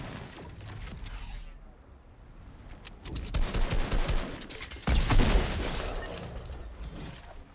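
Rapid gunfire bursts and mechanical weapon clatter sound in a shooter game during a million-dollar tournament, growing louder and denser in the second half with heavy impacts near the end.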